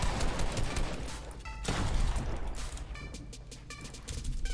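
SPAS 12 shotgun fire in Fortnite: one loud, sharp blast stands out among scattered shots and game effects, with short electronic tones chiming afterward.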